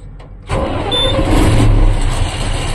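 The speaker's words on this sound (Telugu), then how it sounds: "సెల్ఫ్ కొడదాం." A lorry's diesel engine cranks over with the self-starter and catches, settling into a loud, steady idle close by after a brief quiet moment, with no talk.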